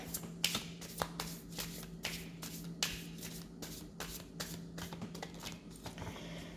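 A deck of tarot cards is shuffled by hand in a series of crisp, riffling bursts and soft slaps, up close and alone, with a low steady hum underneath.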